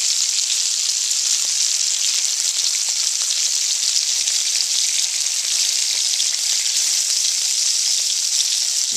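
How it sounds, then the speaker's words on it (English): Cod tongues frying in rendered fatback in a pan give a loud, constant sizzle and crackle that fills the whole stretch without any speech. "Let them fry a little bit."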